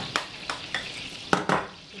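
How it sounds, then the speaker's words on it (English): Batter hitting a hot Danish aebleskiver pan, a close sizzle punctuated by several sharp clicks and scrapes of a utensil against the metal pan, spaced irregularly over a couple of seconds. "I want to make sure that the Æbleskiver pan is hot and bubbly when I put the batter in"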